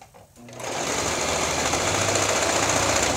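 A sewing machine runs steadily through the third and final seam of a quilt block, starting after a brief pause and then whirring continuously and close up, with faint speech under it.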